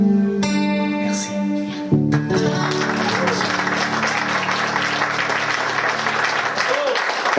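A concert audience applauds at a live music show, a dense roar of clapping that builds after the final chords fade and continues steadily, with a performer's voice briefly heard over it.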